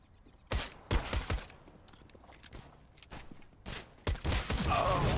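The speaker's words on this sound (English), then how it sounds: "What the fuck, they have burst fire on?" Gunfire rings out in CS:GO on the Cobblestone map. Several sharp, loud bursts come in quick clusters, separated by quieter gaps with faint movement, and grow denser toward the end.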